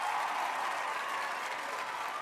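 A crowd at a live comedy and music show applauds and cheers, a continuous dense roar of clapping that sits at a fairly faint, even level throughout.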